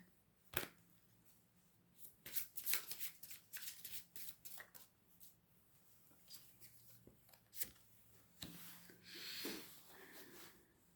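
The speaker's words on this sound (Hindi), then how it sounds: "I like to take cards from the Shiv Oracle deck" Cards from a Shiva oracle deck are handled and shuffled close by, with soft riffling, slides and sharp taps in irregular bursts, quiet overall.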